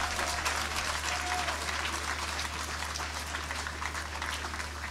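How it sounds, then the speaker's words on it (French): A large crowd at an inauguration ceremony claps steadily and vigorously throughout, a dense, even wash of applause heard from a moderate distance, with a low hum running beneath it. "je vous invite avec respect à applaudir très fort Son Excellence Fachi"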